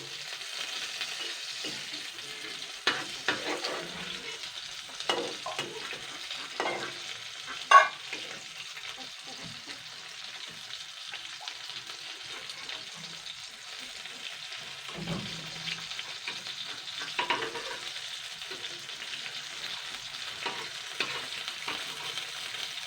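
Lote (Bombay duck) fish fry in hot oil in a pan, a soft continuous sizzle and crackle close by, with occasional scrapes and clicks as the pieces are turned one by one.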